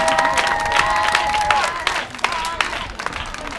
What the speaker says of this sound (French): Et donc je voulais qu'on l'acclame encore pour cela.